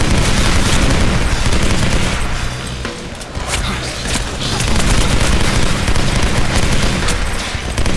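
Dense, loud video game gunfire rattles almost nonstop in rapid fusillades and machine-gun bursts, with a short lull near the middle before the shooting swells again.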